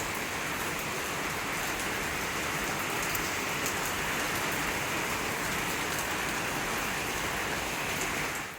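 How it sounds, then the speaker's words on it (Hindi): Steady rain pours down, a dense, even hiss of drops hitting surfaces, close and constant from start to finish. "बारिश आ गई।"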